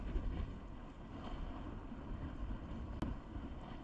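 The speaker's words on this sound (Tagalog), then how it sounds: "Lakas ng hangin." Strong wind buffeting the microphone while fishing from a boat on open water, a constant low roaring rush with a brief knock near the end, and no talk.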